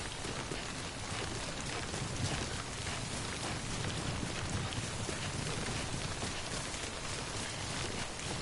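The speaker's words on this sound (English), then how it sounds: "It's raining." Steady, even rain falls in the video game Death Stranding, a dense, continuous hiss of drops on surfaces at moderate level with no pauses and no voices.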